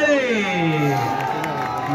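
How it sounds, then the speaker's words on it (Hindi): An audience at a bodybuilding competition claps and cheers in a steady, fairly loud wash, with a sustained tonal sound running over the crowd noise. "जोरदार ताली"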